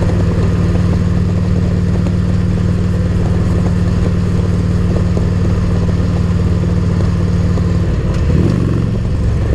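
A Harley-Davidson motorcycle engine runs close by in a steady, loud, low idle with a deep throbbing hum that holds constant, then briefly shifts near the end as the engine is blipped, with no talking.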